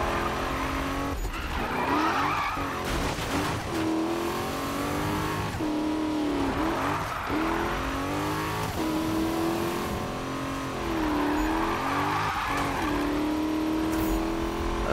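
Race car from Need for Speed (2015) drifting, with a loud, steady engine roar that rises and falls in repeated revving sweeps and a continuous tire-squeal hiss running through the full stretch, without speech.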